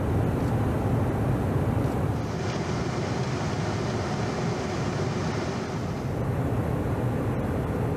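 Loud, steady F-22 Raptor fighter jet engine roar close by, a broad rumbling wash that holds constant throughout with no voices.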